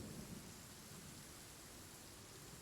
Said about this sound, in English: it's thunder, there's thunder and lightning going on